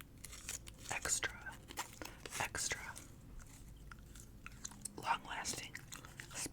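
Long-lasting spearmint gum chewed close to the microphone in an ASMR setting, with soft, wet, irregular chewing clicks and smacks running throughout, alongside faint whisper-like breaths.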